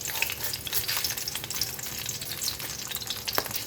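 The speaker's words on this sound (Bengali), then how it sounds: "আচ্ছা এবার আমি দিব পাঁচফোড়ন।" Panch phoron spices frying in hot oil in a pan with bay leaves and green chilli, a close, steady crackling sizzle with scattered sharp pops throughout.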